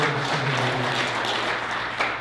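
An audience at a digital technology membership meeting applauds steadily and fairly loudly, a dense wash of clapping with a low hum beneath it, continuing evenly from start to end.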